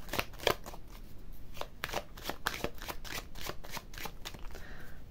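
Tarot cards are shuffled and drawn up close, giving a quiet run of rapid riffling flicks and soft slaps with brief pauses between bursts.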